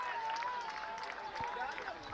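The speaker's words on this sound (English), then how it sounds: "Taranjeet Singh gets an applause as he makes his way to his fielding position here" Crowd applause at a T20 cricket final in Malta as a fielder walks to his position, a steady wash of clapping running throughout under a commentator's talk.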